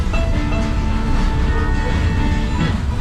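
Silverwood amusement park ride train rolling steadily along its rails, a continuous loud rumble with faint metallic tones and squeals running through it, no voices.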